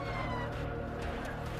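An ambulance siren wails steadily in Liberia during the Ebola outbreak, sounding at a moderate distance with a continuous rising and falling tone.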